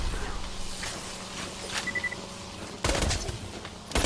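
Gunfire from a small shotgun-wielding enemy in Borderlands 2 on Xbox One, a scatter of sharp bursts through a busy game mix, with a louder cluster of reports near the end.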